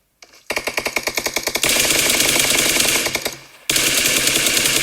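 Sustained automatic gunfire in the battle-royale video game PUBG: a rapid burst of loud shots, then dense continuous firing that briefly fades and resumes at full intensity; no voices.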